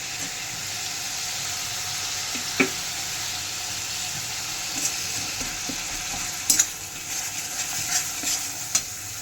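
Onion fries in oil in a kadai with a steady sizzle and intermittent spatula scrapes and clinks, close and alone, for a Bengali prawn malai curry.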